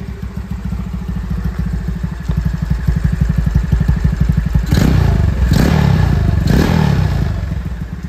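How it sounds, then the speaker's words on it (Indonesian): Yamaha Mio scooter with a carburetor and aftermarket anti-ticket exhaust idling close by, a steady low putter that breaks into three short throttle blips near the end. "Jadi sekarang yang kedengeran suara karbu."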